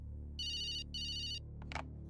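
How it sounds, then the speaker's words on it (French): A mobile phone rings with an electronic ringtone, two bright bursts of trilling tone, and a brief rustle follows. The room underneath carries a steady low hum, and nobody speaks. "Le portable de Chris sonne."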